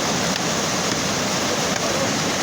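Floodwater rushes in a broad, loud, unbroken roar during 2024 flooding in Thagas, a dense steady wash of torrent noise close by with no voices heard.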